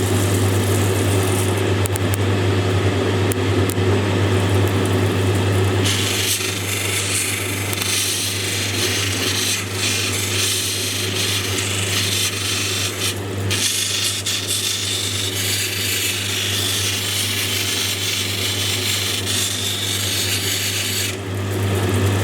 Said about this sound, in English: I'm just moving this up and down the wheel like this and smoothing off the edges and the curves